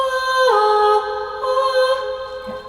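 Sustained epic opera-style vocal layer on a dance-pop production channel, drenched in extra reverb, holding long tones that slide into a new pitch and ring out with a lingering wash and no speech.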